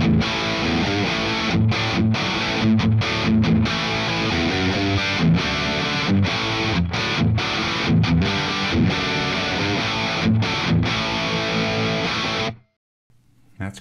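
A heavily distorted electric guitar runs through the second amp model of the STL Tonality Howard Benson plugin, a rockier tone, played as loud, dense chugging riffs with short rhythmic stops for about twelve seconds before cutting to near silence.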